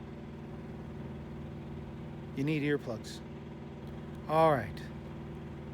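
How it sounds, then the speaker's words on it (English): A small car engine idles with a constant low, even hum in the background, steady and moderately faint, while someone briefly speaks over it. "it's like a small engine, a small car engine. And you can hear it from here, I think."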